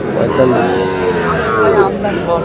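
A Sahiwal bull moos loudly and close by in a long, drawn-out call at a cattle market in Munshiganj, with faint voices and farm noise in the background.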